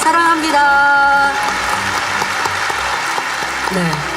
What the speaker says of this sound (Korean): 큰 박수 보내드립니다